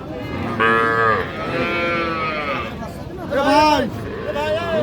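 Cattle low repeatedly at a busy livestock market in Dinajpur, Bangladesh, where young heifers and bull calves are for sale. The long, loud moos sit under continuous nearby talking and crowd babble.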